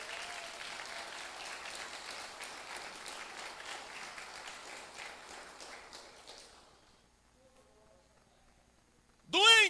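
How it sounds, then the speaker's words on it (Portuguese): A church congregation applauds the Lord in a dense, sustained round of clapping that gradually thins and fades after several seconds, followed by near quiet and a brief loud voiced burst at the very end. "Não aplaude o Senhor,"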